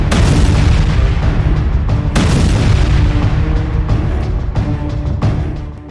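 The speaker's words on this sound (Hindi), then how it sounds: "गोलानी बैरकों पर रॉकेट की बौछार से बमबारी की" A rocket barrage strikes Golani barracks in northern Israel, fired from Lebanon during the Israel–Hezbollah war. Heavy, loud booms overlap in a dense rolling rumble, with sharper blasts breaking through at intervals.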